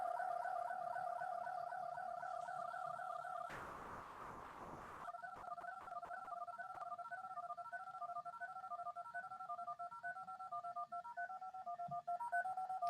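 Faint DTMF telephone dialing tones play as a string of steady paired beeps, interrupted briefly by a burst of noise, then resuming as rapid repeated tone pulses stepping between pitches, quiet and a little distant.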